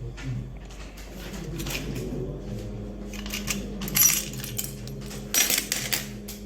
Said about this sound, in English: Press down on the release button to open the door and remove the keys.